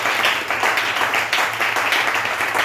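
A church congregation applauds the Lord in loud, dense clapping that carries on without a break, with no voices standing out over the hands.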